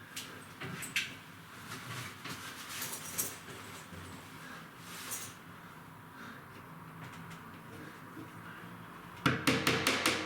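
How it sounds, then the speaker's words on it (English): Tacks tapped into plaster egg and dart coving to hold it in place while it sets, a run of close, sharp knocks, with a quick cluster of louder taps at the end. "I'll put my tacks back in just to hold it in place so it sets properly"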